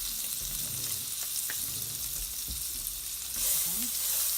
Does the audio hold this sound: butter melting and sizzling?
yes